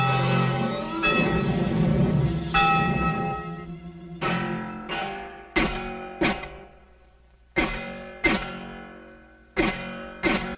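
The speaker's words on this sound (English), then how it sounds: "And soon the church bells will be chiming." Church bells in a 1949 cartoon soundtrack, first a sustained ringing chord, then a steady run of separate clanging strikes, each decaying before the next.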